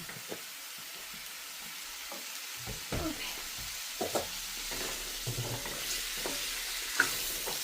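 Purple sweet potato being stirred in a pan of coconut oil, a faint steady sizzle with scattered scraping clicks of a utensil against the pan, no talking.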